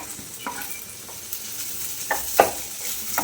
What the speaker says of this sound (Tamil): இப்போ கொஞ்சம் இந்த குடமிளகாய் போட்டுடலாம்